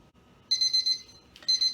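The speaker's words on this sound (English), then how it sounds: "the timer is going off" An oven timer beeps in a home kitchen, two bursts of rapid high-pitched electronic beeping separated by a short pause, clear and close with no talk.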